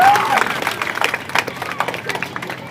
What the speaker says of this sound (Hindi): तो एक मरतबा जोरदार ताली